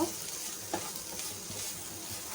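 Spiny gourd fries in a pan with salt and spices as a spoon stirs it, giving a soft continuous sizzle broken by light scraping strokes, close and fairly quiet.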